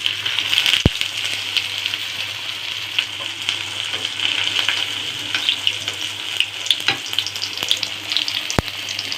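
Fish pieces fry in lightly heated oil in a wok, giving a continuous crackling sizzle with scattered pops and two sharp clicks of a utensil, close and fairly loud; no one speaks.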